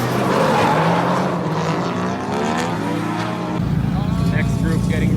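A Formula Drift car drifting at a drift day event: a loud, sustained engine roar with rising and falling revs and tire squeal, steady throughout with voices talking over it.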